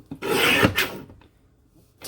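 A paper trimmer cutting vellum-finish cardstock to size, one short rasping slide of the blade followed by a second quick stroke, close and fairly quiet, then near silence.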